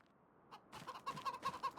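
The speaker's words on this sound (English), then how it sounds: "So we've got chickens." Chickens in the Farming Simulator 25 video game, a quick run of repeated clucks after a moment of near silence, soft and close, rising to a busy cluster of calls with no speech over them.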